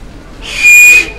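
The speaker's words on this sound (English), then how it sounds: "Give a whistle." A person whistles a single brief rising note, clear and close, after a quiet pause.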